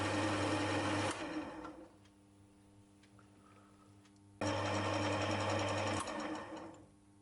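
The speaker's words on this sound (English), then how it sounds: "So I feed in on the compound slide and cut the next pass." A small lathe cutting a large thread with the compound slide fed in, running as a steady loud mechanical whir that drops to a quieter hum between passes and then resumes at full level.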